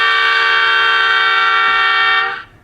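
A Southern Railway M5 air horn from a model train sound file blows one long, loud, steady chord that holds unbroken before cutting off abruptly at the end.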